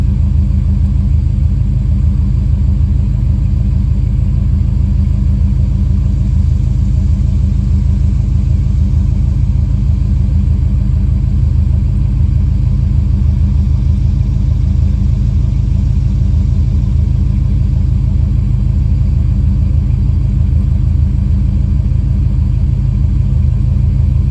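The big-block engine of a 1986 Buick Regal Limited with EFI idles with a steady, deep rumble. The sound holds even and unbroken for the whole span, with no talk.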